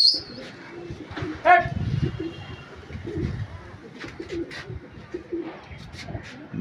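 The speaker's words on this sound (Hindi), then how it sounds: "बेहतरीन कबूतर हैं" Kasid pigeons coo in low, repeated throaty bursts close by, with scattered chirps and wingbeat-like rustles from a flock around them.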